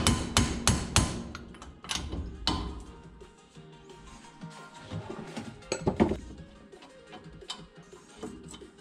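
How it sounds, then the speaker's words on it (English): A hammer taps metal parts out of a car suspension hub during a max angle kit install on an FRS/BRZ/GT86, giving a quick burst of sharp, ringing strikes at first, then sparser knocks and clinks nearby. "to get these out, I'll usually just give a few good taps"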